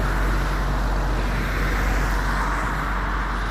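Road traffic rumbles past steadily on a foggy day, a loud, continuous wash of car and heavy vehicle noise with a deep low drone and no clear gaps.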